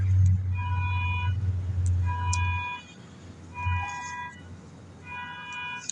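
A car alarm sounds nearby in repeated pulsing bursts of harmonic electronic tones, about four cycles, over a low engine-like rumble that drops away midway.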